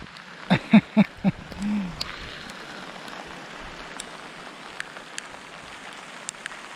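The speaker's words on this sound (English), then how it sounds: "It's raining." Steady soft rain patters continuously on a covered boat, with a few sharp knocks or thumps near the start and occasional drips landing nearby.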